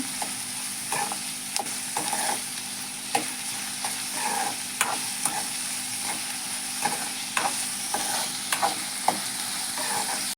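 Onions fry in oil in a pan for a Konkan-style vegetable dish, a constant sizzle punctuated by repeated scraping taps of a stirring spoon at an uneven, steady pace.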